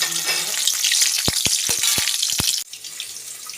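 Tempering spices fry in oil coated around a wok before mixed vegetables go in, a steady close sizzle punctuated by several sharp knocks of a spoon on the pan, then dropping to a softer hiss.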